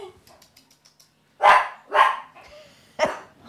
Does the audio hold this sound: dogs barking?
yes